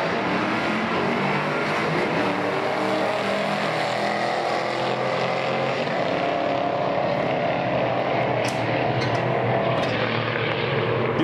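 Ford Mustangs, a Fox body and an S197, drag racing at Englishtown, New Jersey, with a loud, steady engine roar sustained throughout and no pauses.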